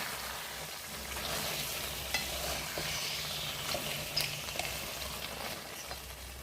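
Chicken being stirred in a frying pan while cooking down for a gravy, with a steady broadband sizzle and soft scraping of the spoon across the pan, continuous at close range with no talking.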